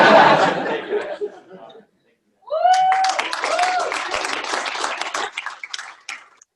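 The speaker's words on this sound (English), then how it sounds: "One more time, a round of applause for the graduating class." Audience at a Kings County graduation ceremony clapping for the graduating class, a loud burst that fades out, a short gap, then more clapping mixed with laughter and cheerful voices.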